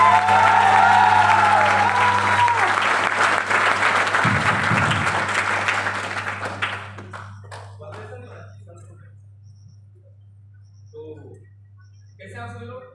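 Audience clapping at a success-training seminar welcome, loud and dense at first, then fading out after about six seconds into near-quiet room tone with scattered small sounds and a steady low hum.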